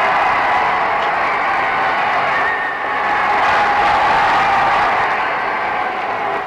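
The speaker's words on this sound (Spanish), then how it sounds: "Una ovación interminable acoge la presencia del rey y de la reina." Crowd in Brussels giving a long ovation to the king and queen at the 1960 royal wedding of Baudouin and Fabiola: a steady, dense roar of applause and cheering that carries from start to end.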